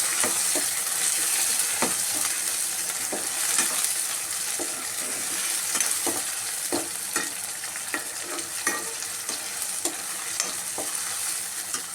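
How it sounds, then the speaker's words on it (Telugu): Tomatoes, onions and green chillies fry with a steady sizzle in a pan, stirred by a spatula whose scrapes and knocks recur every second or so, close and loud throughout with no talking. "బాగా కొంచెం వేగించుకున్నామండి."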